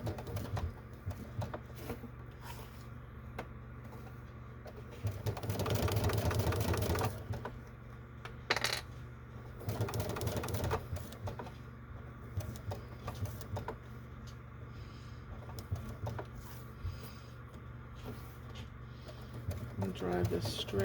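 A sewing machine stitches a clutch bag in short motorized bursts, with a steady whirring run in the middle. Quiet talk, light clatter and handling noises come between the stitching runs.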